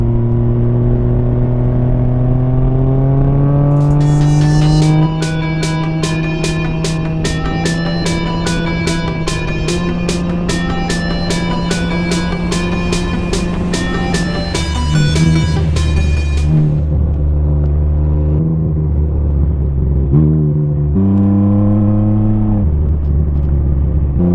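A Can-Am Ryker three-wheel motorcycle cruises a road toward West Palm Beach, its engine droning loud and close with rising and falling pitch as it accelerates and shifts, with wind rush throughout.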